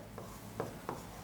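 A pen writing a formula by hand on paper gives three short, soft scratching strokes, faint and close, with no talk over them.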